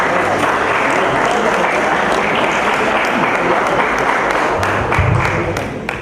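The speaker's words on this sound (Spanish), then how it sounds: "Recibámoslo con un fuerte aplauso." Sustained applause from a conference audience welcoming a speaker, dense and steady clapping filling the whole stretch with faint murmurs and voices underneath before it tapers at the end.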